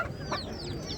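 Chickens clucking at the Ganja poultry market, a few short close clucks and squawks over a low crowd murmur, lasting only a moment.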